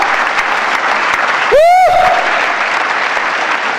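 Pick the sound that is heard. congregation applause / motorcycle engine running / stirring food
congregation applause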